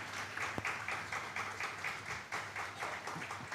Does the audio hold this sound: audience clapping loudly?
yes